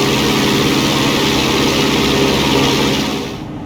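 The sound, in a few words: small airplane propeller engine in flight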